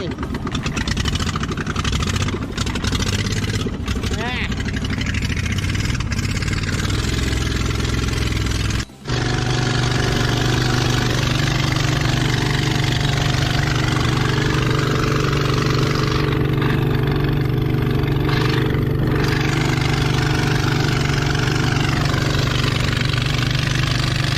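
A new fishing boat engine runs during a sea-fishing trip off Songkhla, a loud, steady, close droning hum with a brief cut near the middle before it resumes unchanged.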